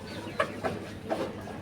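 White chickens on a home terrace give three short clucks spaced about half a second apart, close and fairly faint over a quiet background.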